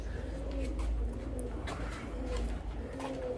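Pigeons in a breeding cage, including Jacobin birds, giving soft repeated coos, close and steady over a low background hum, with a few faint chirps mixed in.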